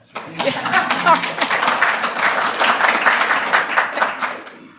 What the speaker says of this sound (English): You can applaud for Gail.